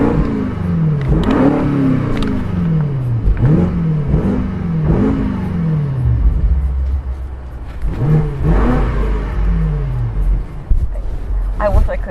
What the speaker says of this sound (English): It's time to hear this powerful exhaust on this beautiful X6M.